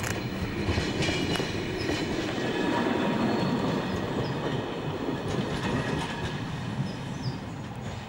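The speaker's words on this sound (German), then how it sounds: "Güterwagen rollen über einen Ablaufberg." Freight wagons roll over the hump at the Oberhausen-Osterfeld-Süd marshalling yard in the Ruhr, a steady loud rumble of wheels with clattering and faint high squeals from the rails throughout.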